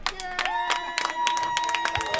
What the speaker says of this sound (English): a sarcastic round of applause by the Ringgold faithful on the call